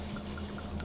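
Madeira wine pours into a tablespoon while cooking, a short, soft liquid trickle heard alone against a quiet room hum.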